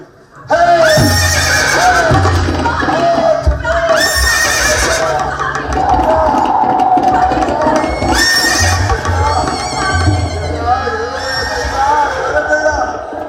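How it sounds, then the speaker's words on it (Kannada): Loud, close horse neighs and whinnies repeat several times during a stage drama performance, over continuous busy background noise, with hints of voices and hoof clatter. "ಕುದುರೆಯು ವೇಗವಾಗಿ ಚಲಿಸುತ್ತದೆ"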